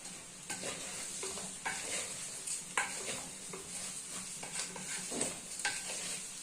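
Rice and vermicelli being stirred and sautéed in a pan, with a steady close sizzle of frying under repeated scraping stir strokes, no talking.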